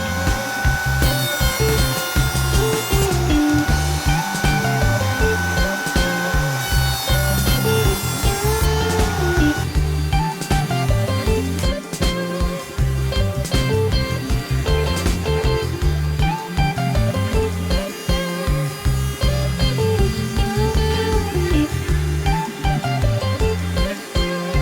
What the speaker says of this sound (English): Let's head over to the planer to get everything nice and flat.